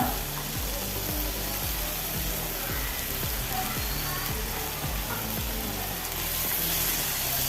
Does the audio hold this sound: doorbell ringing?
no